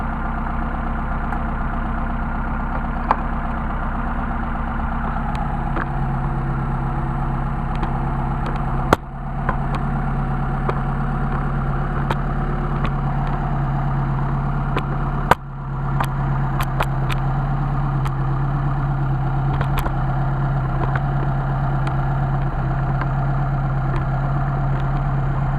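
A car engine idling smoothly on Solex 44PHH carburetors at a steady rpm, a constant low drone with a couple of brief sharp clicks, and no voices.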